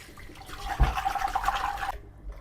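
Mackerel being rinsed and swished by hand in a vessel of water, a short spell of splashing and sloshing liquid close up that stops abruptly, no talk.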